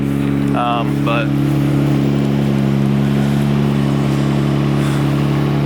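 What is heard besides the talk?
Nissan R32 GTR engine idling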